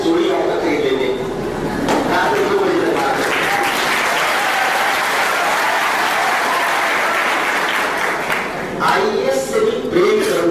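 Sustained audience applause fills a hall at a civil services aspirants' meeting, loud and continuous, with a speaker's voice heard over it at the start and end.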